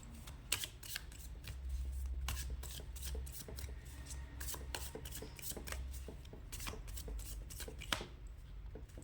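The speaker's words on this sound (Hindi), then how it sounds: "यहाँ पे कार्ड्स शफल हो रहे हैं" Tarot cards shuffled by hand in a steady run of soft, close riffling flicks and rubs, fairly quiet, with no voice over it.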